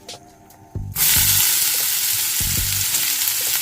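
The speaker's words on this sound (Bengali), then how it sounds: "এবার দিয়ে দেবো পেঁয়াজ কুচি" Chopped onion drops into hot oil in a home kitchen pan with fresh okra set aside, first a few clinks and stirring scrapes, then a loud steady sizzle that continues throughout with occasional utensil knocks.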